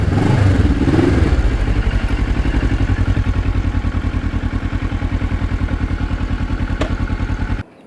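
Kawasaki GPZ 1000 motorcycle, a custom bike built from three machines, running close by with a steady, pulsing engine note and mechanical clatter, a brief rev at the start, then cutting off abruptly.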